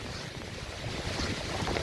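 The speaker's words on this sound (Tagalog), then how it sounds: "Lakas ng ulan at lakas pa ng hangin." Strong Typhoon Kristine wind during a 2024 storm in Ragay, Camarines Sur, roaring as a steady, dense, broadband rush with heavy rain mixed in, with no voices.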